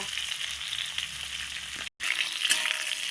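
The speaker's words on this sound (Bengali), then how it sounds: "পটলগুলো লাল লাল করে আরও একটু ভেজে নেব" Pointed gourd (potol) frying in hot oil gives a dense, steady sizzle, close and fairly loud, broken by a brief dropout and then a few faint stirring scrapes, with no voices.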